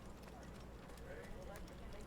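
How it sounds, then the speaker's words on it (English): Rhythmic clip-clop of horse hooves in Assassin's Creed runs steadily underneath ongoing talk, with a dense low rumble in the background. "I heard a horse somewhere."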